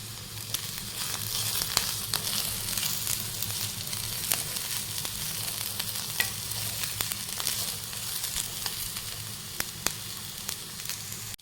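Onions, green chillies, curry leaves and fennel seeds frying in a pan while being made into crispy potato bonda, a continuous close sizzle with faint crackles and occasional stirring clicks, no voices.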